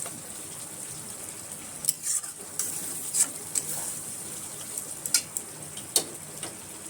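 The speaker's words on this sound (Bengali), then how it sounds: "তো এখন দিয়ে দেবো সেদ্ধ করে রাখার ডাল" Boiled mung dal poured into a pan of fried spices and hilsa fish head, giving a low steady sizzle broken by several sharp clinks and scrapes of a spoon against the pot.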